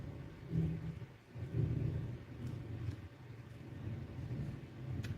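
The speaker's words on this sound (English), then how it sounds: "I hear thunder." Distant thunder rolls in low, faint rumbles that swell and fade several times against quiet outdoor ambience.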